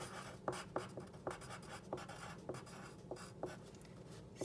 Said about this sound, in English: So I'm going to write down a compliment